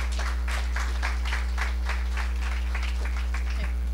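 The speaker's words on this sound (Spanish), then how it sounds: "Un fuerte aplauso, por favor." An audience gives a hearty round of applause after a human resources consulting firm is introduced, rhythmic bursts of clapping over a strong steady electrical hum, with a voice faintly present.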